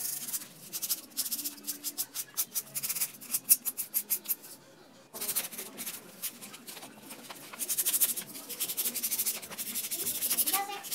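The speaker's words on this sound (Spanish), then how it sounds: "Vamos a lijar y lijar y lijar y seguir lijando" Sandpaper rubs steadily over a carved foam roll holder with a sculpted face, a quiet close scratching in quick repeated strokes, pausing briefly before continuing at a steady pace.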